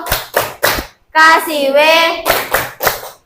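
Children in an Indonesian classroom clapping a chanted rhythm game: three sharp claps, then a sung, child-voiced chant, then four more crisp claps in steady time.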